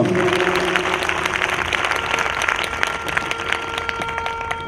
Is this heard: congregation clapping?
yes